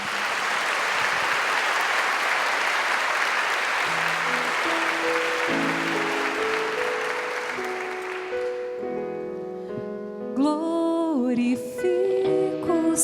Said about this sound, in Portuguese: Aplaudamos o Santo Evangelho.